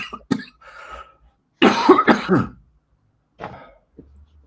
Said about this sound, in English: I'm just having a coughing fit.